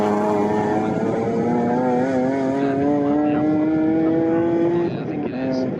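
A well-prepared Volkswagen Golf saloon race car with a large rear wing and diffuser drives at Snetterton, its engine note rising steadily in a loud, continuous whine before easing off near the end.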